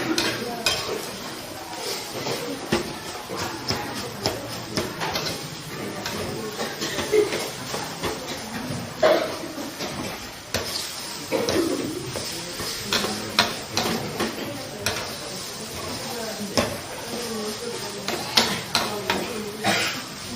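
Fried rice with egg and sauce being stirred and tossed in a pan, a steady run of scraping, clinking utensil strokes over a soft sizzle, close and moderately loud throughout.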